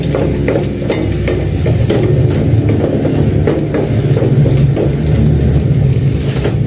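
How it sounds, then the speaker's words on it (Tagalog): Garlic sautéing in a pan sizzles loudly and continuously, with stirring scrapes and clinks throughout, close up and with no voices. "Bawang pag nagigisa na."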